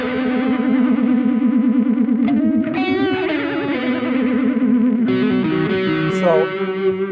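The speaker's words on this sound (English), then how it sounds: "Let's set an extreme modulation just so it gets pretty easy to hear." Guitar played through a Beetronics Bee Bee Dee delay pedal set to extreme modulation: sustained distorted notes with heavy wobbling pitch warble and echoing repeats, loud and continuous with no talking.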